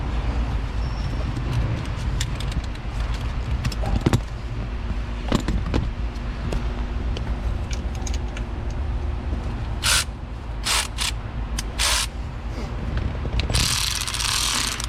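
A hand ratchet clicks steadily while running bolt threads down on a GMC 2500 Savana LS engine during a tune-up, close and continuous, with occasional knocks and a few short hissing bursts near the end.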